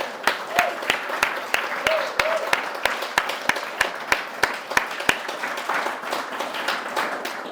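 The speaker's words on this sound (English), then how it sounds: "Kirk needs a real round of applause for his 38" Audience at a Scripps College ceramics collection event applauding a retiring collection manager: a steady wash of many hands clapping for several seconds, with sharper individual claps standing out, a few voices murmuring beneath.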